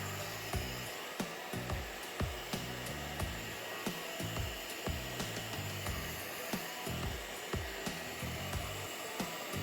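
A Proscenic DustZero S3 smart vacuum cleaner runs at full suction, a steady loud motor whine with repeated short bumps and knocks as it is pushed back and forth. No one speaks.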